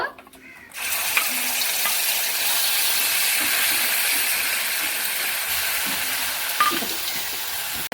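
Dried red chillies and black cumin hit hot oil for an okra curry made without onion or garlic, and after a brief quiet moment a loud, steady sizzle bursts up and keeps going with small crackles.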